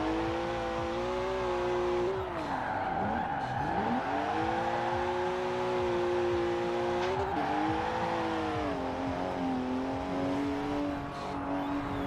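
A BMW in Forza Horizon 5 drives hard, its engine droning loud and steady with revs rising and dipping through gear changes and brief tire scrubs, with no talking.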